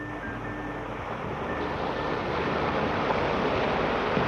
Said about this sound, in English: with the waves breaking over the reef